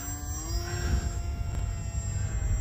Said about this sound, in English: This airplane is a blast to fly